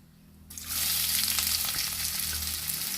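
Chopped onion and garlic dropped into hot oil, erupting after a quiet half second into a loud, continuous close sizzle that holds steady to the end, with no voices.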